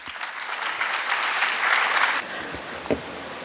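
Audience applause fills a hall at a national conference inauguration ceremony for CA students, a steady burst of clapping that fades out partway, followed by a couple of isolated thumps.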